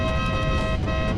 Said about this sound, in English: You want a honk? Is that what that is?